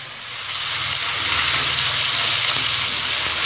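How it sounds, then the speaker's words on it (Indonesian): Spice paste with turmeric and a little water sautéing in a pan, a loud, steady close-up sizzle that swells slightly, with no voices. "Kita tumis sampai bau kunyitnya hilang"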